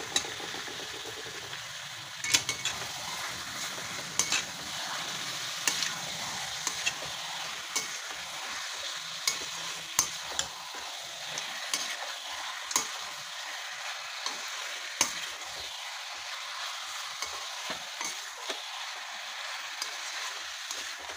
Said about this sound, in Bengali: এখন মাংসটা একটু ভিতরে ঢেলে দিই,